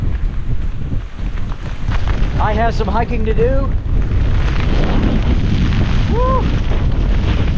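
Strong gusts of wind, about 50 miles an hour, roar across a mountaintop campsite at a forest edge during a severe thunderstorm. The wind blasts the microphone steadily while someone speaks and whoops over it.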